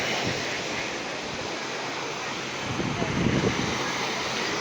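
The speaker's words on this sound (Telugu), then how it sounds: "అలలు చాలా మెల్లగా నిదానంగా తీరాన్ని తాకుతున్నాయి." Gentle sea waves washing onto the beach at Vizag in the morning, heard as a continuous soft surf roar mixed with wind noise, swelling slightly near the end.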